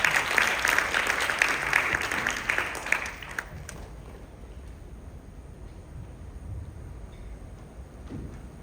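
Audience applause for a children's skit at a Kannada community event in Singapore, a burst of clapping for about three seconds that quickly fades out, leaving quiet room tone.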